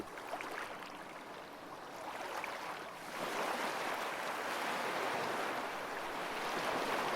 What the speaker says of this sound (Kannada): ನಿಮ್ಮ ಗಮನವನ್ನು ಸಮುದ್ರದ ಅಲೆಗಳ ಶಬ್ದದ ಮೇಲೆ ಕೇಂದ್ರೀಕರಿಸಿ